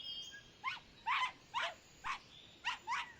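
A dog named Rufus in a video game barks six times in short, evenly spaced yaps, moderately near and clear against a quiet background.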